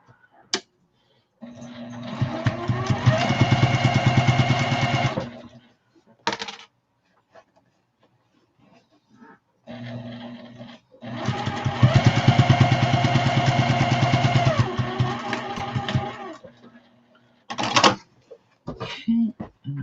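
A sewing machine runs two long bursts, stitching a half-inch seam on a drawstring bag, its motor whirring loudly and evenly with brief short runs and pauses between.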